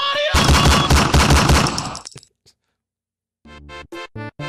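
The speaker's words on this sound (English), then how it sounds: "Man, he gonna use the handgun." Dense rapid video game gunfire, loud and close, a sustained automatic burst lasting about two seconds, then silence followed by short choppy bursts of sound.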